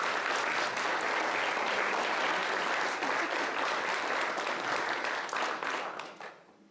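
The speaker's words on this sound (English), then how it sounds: "they really deserve a round of applause as well for all the hard work" A full room at a mayoral forum held at a high school gives a round of applause, steady close clapping that carries for about six seconds before tapering off near the end.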